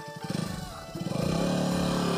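KTM Duke 200 motorcycle engine revving nearby, a pulsing rumble that climbs in pitch and settles into a loud, steady high-rpm drone.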